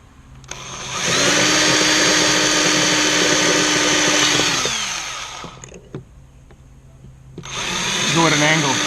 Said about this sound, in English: so that I can drill straight.